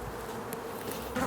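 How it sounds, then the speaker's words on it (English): Honeybees from a hive removed from a porch buzz in a dense, steady hum close by, with no other sound. "there's still a lot of bees inside the nuke box"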